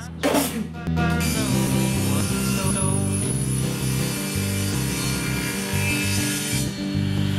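A saw cuts a poplar board guided by a miter gauge, giving a loud, sustained whining buzz after a brief start-up, with the pitch shifting slightly as the blade works through the wood.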